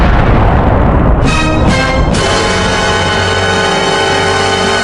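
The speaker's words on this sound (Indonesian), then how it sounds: "Ada bom waktu yang meledak di dekat ondel-ondel Betawi" A cartoon time bomb goes off beside a pair of Betawi ondel-ondel puppets, a loud booming blast followed by crackling bursts and a long, harsh, ringing rumble that stays heavy to the end.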